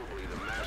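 A horse whinnies in the video game Metal Gear Solid 5: The Phantom Pain, a short rising neigh over a steady low background hum, moderately near.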